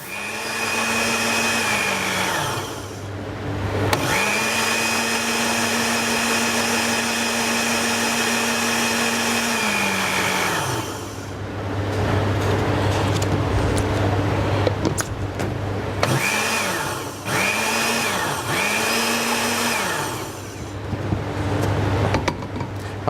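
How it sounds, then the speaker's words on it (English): A blender blending berry sauce whirs in several long bursts, its motor droning steadily, stopping, then running again in short pulses near the end. "We're just going to get the new blender, get them done."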